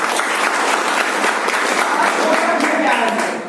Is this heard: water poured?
no